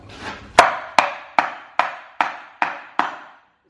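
A hammer strikes a new car differential, a GT86 unit being fitted to a Toyota Chaser, in seven sharp metallic blows spaced evenly about every 0.4 seconds, loud and close with short ringing decays.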